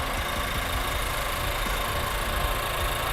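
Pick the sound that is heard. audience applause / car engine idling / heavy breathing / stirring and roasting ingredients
car engine idling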